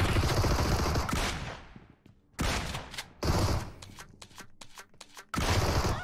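Gunfire in a video game, with a pump shotgun among the weapons: dense bursts of loud, rapid shots start and stop several times, with short quiet gaps between them.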